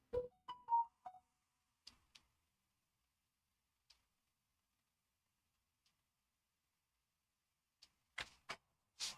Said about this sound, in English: Why does my phone keep going off?